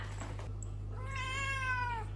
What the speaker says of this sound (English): She's a British short hair.